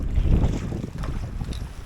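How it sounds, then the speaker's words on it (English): A gust of crosswind sweeps across a lake in late fall, buffeting the microphone with loud, rumbling roar that swells at the start and then keeps blowing steadily, with no voices. "Get that crosswind of a gust there."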